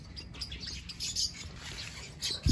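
Pet lovebirds in a breeding setup chirp in a busy overlapping chatter of short, high tweets throughout, with a louder rustle or thump right at the end.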